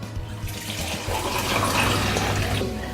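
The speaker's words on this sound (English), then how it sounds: "Roger, pour away." Nicholson's Pale Ale pours into a glass, a close, continuous gurgling splash of liquid that grows slightly fuller partway through and runs steadily on without any talk.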